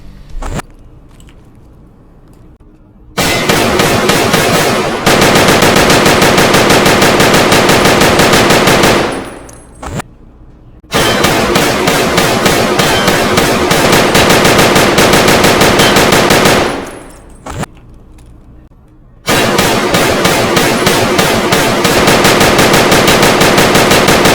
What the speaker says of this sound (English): I'll show you guys how the recoil looks on these 3 different guns.